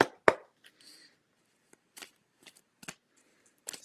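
Playing cards being shuffled and handled, a sharp riffle near the start followed by several short, quieter flicks and shuffles spaced through the rest, with no talking.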